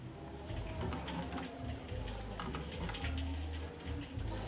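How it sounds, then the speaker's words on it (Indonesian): Custard flour, cornstarch and wheat flour liquid is poured into a pot on the stove and stirred, giving a steady watery sloshing and scraping with faint sizzling, close and continuous. "ini dia kita masukkan cairan tepung custard, maizena, dan terigunya sambil kita aduk-aduk di atas kompor"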